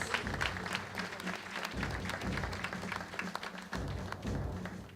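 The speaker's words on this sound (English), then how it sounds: "A round of applause for Carol, please." Guests at an anniversary luncheon applaud for an honoree, a steady round of clapping from a moderately sized room, with a few dull thumps under it.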